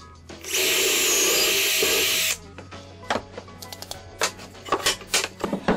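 A power drill whirs loudly for about two seconds drilling dowel holes for a shelf board with a doweling jig, then stops, followed by several sharp clicks and knocks of wood and tool handling.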